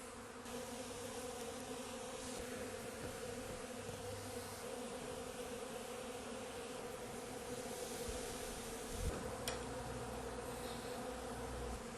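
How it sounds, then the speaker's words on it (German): Bees buzz around a Bienenkiste hive during a honey harvest, a continuous dense drone of many insects nearby, steady and unbroken with one brief knock near the end. "Bienen."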